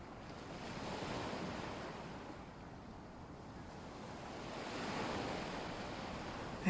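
Ocean waves wash softly over a lagoon shore at night. The surf rolls in a steady, broad hiss and swells gently around the fifth second, with light wind and no voices.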